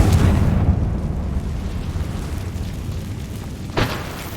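A Confringo fire spell blasts in Hogwarts Legacy, a deep booming explosion that rumbles and slowly fades, followed by a second sharper burst near the end.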